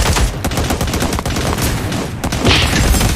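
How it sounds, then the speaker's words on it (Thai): Rapid bursts of heavy gunfire from the futuristic shooter Cyber Hunter, loud and close, with dense overlapping shots and a booming blast near the end. "โดนปืนใหญ่เราสังหาร"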